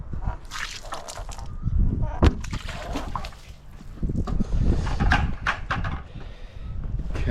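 Close-up splashing and dripping of water onto a wood slab, in uneven bursts, with a voice talking over it.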